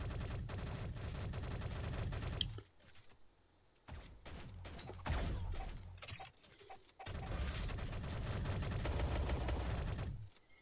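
Sniper rifle fire in the egg-themed online shooter game Shell Shockers: several sharp bursts and cracks arrive in uneven clusters, each separated by short lulls, over dense game sound.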